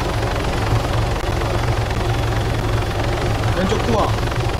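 A helicopter in the military video game Arma 3 roars with a loud, steady rotor thump and engine drone throughout, close and continuous, while people talk under it.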